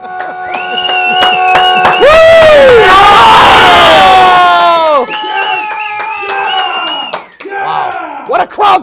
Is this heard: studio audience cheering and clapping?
yes